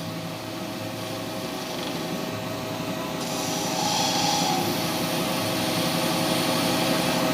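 A lathe turns a resin shaving brush blank while a cutting tool takes fine cuts, giving a continuous hiss and rub over a steady motor hum that grows a little louder partway through.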